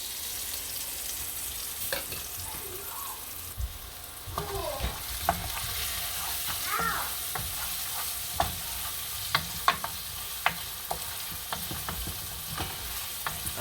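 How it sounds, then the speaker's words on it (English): Curry powder and onions fry in a pot for Jamaican curry shrimp, giving a steady close hiss broken by stirring scrapes and sharp utensil clicks against the pot. "So we're just burning the curry in this right now."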